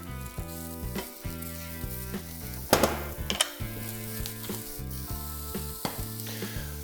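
Carrots sizzling with frying onion in a pan, a crackling sizzle with a brief louder burst of spattering, under steady background music, with no talking.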